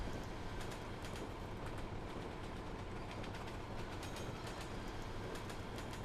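A train rolls along rails in the Train Simulator game on a Boston & Albany route, a steady low rumble with faint rhythmic clicks running throughout at a moderate, even level.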